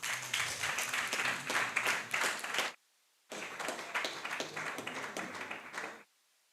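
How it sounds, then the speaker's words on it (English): An audience at a community Wi-Fi launch in Mount Peace claps and applauds in two sustained bursts of dense clapping, separated by a brief pause, with no voices over it. "Give your Member of Parliament another big round of applause"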